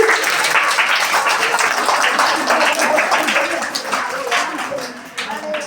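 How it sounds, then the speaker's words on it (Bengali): Loud, sustained clapping from a school audience for Shreyasi Madam at a new classroom opening, dense and steady for several seconds before thinning slightly near the end. "তো একবার জোরে হাততালি শ্রেয়সী ম্যাডামের জন্য"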